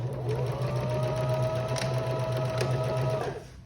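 A sewing machine back stitches along a zipper pouch in a fast, steady, close-up mechanical whir that runs for a few seconds and then stops.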